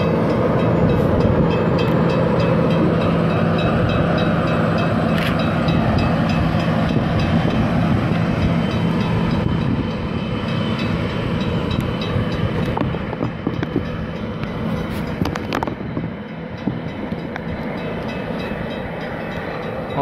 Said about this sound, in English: N5 now departing from platform 1.